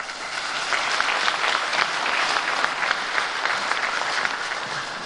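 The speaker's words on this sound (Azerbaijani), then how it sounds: "Hamınızı ürəkdən alqışlayırıq" Sustained, dense applause from a concert audience at a musician's 60th jubilee celebration, many hands clapping steadily and evenly throughout with no pauses.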